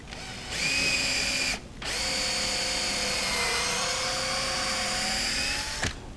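A power drill whines loudly and steadily as it drives into wood for a step stool, running in two long bursts with a short pause between them and spinning down at the end.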